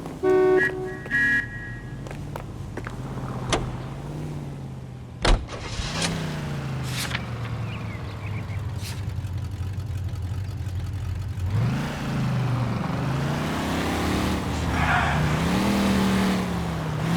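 A car driven in the video game L.A. Noire, its engine droning and revving steadily at close range, with brief sharp knocks early on and a louder surge of acceleration in the second half.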